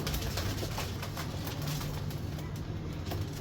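A big old black-feathered pigeon coos softly among other birds, low hums sitting under a busy outdoor wash of ambient noise that continues unbroken throughout.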